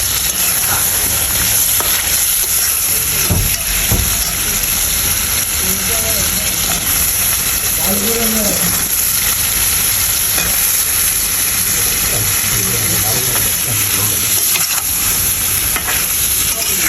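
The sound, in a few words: frying and stirring spices in a pan for fish curry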